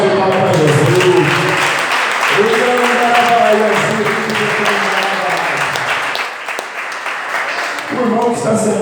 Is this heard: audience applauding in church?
yes